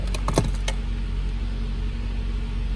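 A 2019 Mitsubishi Outlander starts by push button: a few quick clicks and a short cranking burst, then the engine settles into a steady, loud idle rumble.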